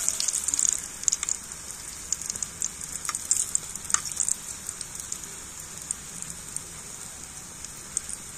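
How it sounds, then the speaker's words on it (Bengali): Palm-fruit pithe frying in oil over a low flame, giving a steady soft sizzle with scattered light crackles and pops throughout, close and alone. "একেবারে হালকা জাল দিয়ে আর এই পিঠেগুলোকে সুন্দর করে কিন্তু ভেজে নিতে হবে"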